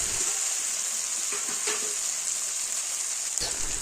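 Spices are stirred and fried in a pan over low to medium heat, a steady close sizzle with a few soft scraping strokes and a sharper clink near the end.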